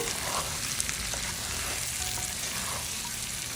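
Chicken fry with masala spice mix is stirred in a hot pan, a close and steady hissing sizzle with occasional soft scrapes. There is no talking.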